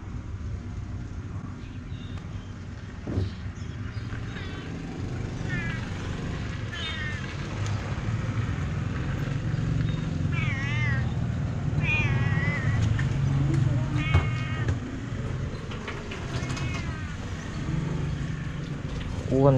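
Several cats meow repeatedly at a Thai temple, their wavering calls rising over a low rumble of background noise while people talk nearby.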